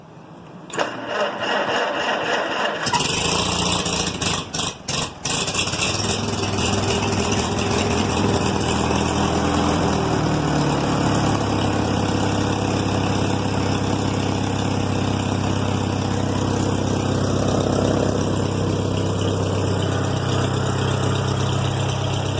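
A small oily engine with a straight pipe in place of a muffler fires up after a few sputters and settles into a loud, continuous, rough idle up close, droning steadily to the end.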